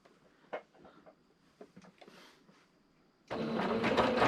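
A home sewing machine starts stitching quilt binding, giving a steady, fairly loud mechanical whirr after a few quiet clicks and bumps as the fabric is set in place.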